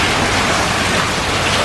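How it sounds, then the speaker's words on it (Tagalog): Steady rain pours down in a dense, loud hiss that stays unbroken for a short moment, heard outdoors while waiting for transport during a backpacking trip in Khao Sok, Thailand. "So, umuulan pa din."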